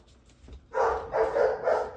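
A dog barks three times in quick succession, loud and close, after a brief quiet moment.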